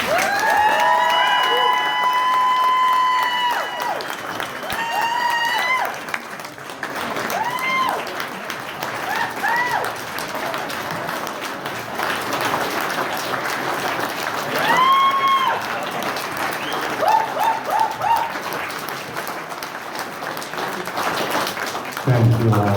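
An audience applauds steadily for a Snowmobile Hall of Fame inductee, Marlyn Englert. Sustained clapping fills the room, and a voice speaks over the applause.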